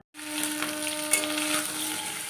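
Paneer kofta pieces sizzle lightly in oil in a pan, a steady soft frying hiss running throughout with no talking.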